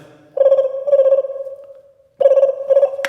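A voice imitates a ringing telephone using a uvular trill: two bursts of warbling, trilled tones separated by a pause, close and fairly loud.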